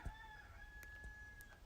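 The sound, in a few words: rooster crowing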